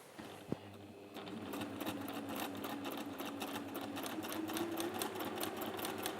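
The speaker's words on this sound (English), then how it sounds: "We go to the machine, and again, I would do a reverse stitch at the beginning." A sewing machine runs a seam on fabric for a crown pincushion, a sharp click followed by a steady, rapid run of stitching that continues close and clear, with faint talk at most.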